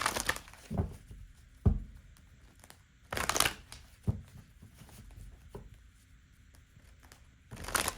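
Tarot cards being shuffled by hand in several separate bursts of riffling and slapping, close up, with quieter gaps of soft handling between them and no talking.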